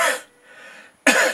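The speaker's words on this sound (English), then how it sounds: "and that is a cough" A single sharp human cough close up, then a brief quiet breathy pause and a second forceful cough burst.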